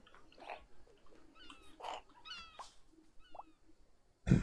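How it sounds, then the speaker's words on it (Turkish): Pet cat in the wildlife adventure game Alba, several short, close meows spaced across a few seconds over a quiet background, ending with a brief low thump. "Evcil kedi."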